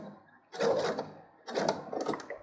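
A sewing machine stitches around all four sides of a small quilted four-patch coaster, running in two close, steady buzzing bursts separated by a brief pause, with no talking.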